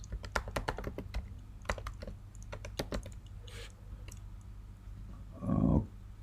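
Quick bursts of keystrokes on a computer keyboard as a command is typed, close and crisp, with uneven rhythm, brief pauses and a thumping key press near the end.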